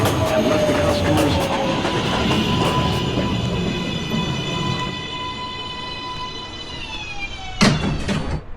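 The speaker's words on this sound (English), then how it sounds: "Uptown, Express 2, Train 2, Rector Street. Approaching the station" An NYC subway 2 express train pulls into a station with a loud rumbling roar and rising, whining motor tones that slide down in pitch as it slows, ending in a sharp brake squeal.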